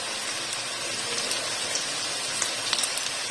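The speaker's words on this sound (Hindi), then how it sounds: "अच्छे से फ्राई कर लेंगे इसको। प्याज हमारा बहुत अच्छे से ब्राउन हो रहा है।" Onions frying and browning in plenty of oil in a pan, a steady close sizzle of crackling pops with no voices.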